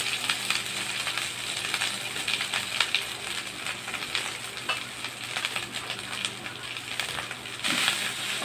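Leftover cooked rice hits a pan of hot margarine and fries with a steady, close sizzle, with occasional scraping and stirring clicks from the pan throughout.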